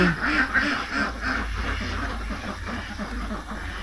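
Itik Pinas F1 ducks on a farm in Toril, Davao City quack in a rapid repeating series, close and fairly loud over steady background noise.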